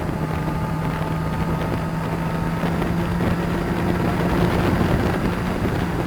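A motorcycle engine holds a steady, sustained drone under heavy wind buffeting as it is kept on the throttle through a bend on the Mallory Park race track, with the pitch rising slightly toward the end.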